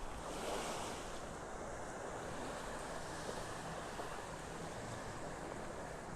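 Surf rolling onto a Florida beach in North Naples on a Saturday morning walk, a continuous wash of waves mixed with wind buffeting the microphone, steady and fairly loud with no voices.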